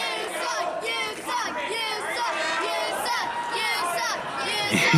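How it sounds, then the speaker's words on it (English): A wrestling event crowd at AMW Summerbash 2017 chatters and shouts in reaction after the match ends, a dense, steady roar of many voices with chant-like swells throughout. "You hear the crowd there"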